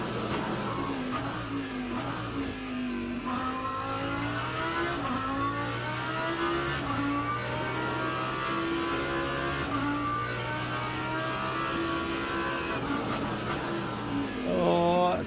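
A race car engine in Le Mans Ultimate revs loud and steady around Sebring, its pitch climbing and falling through the gears, with a hard brief rise near the end.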